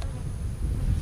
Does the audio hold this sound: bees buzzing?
yes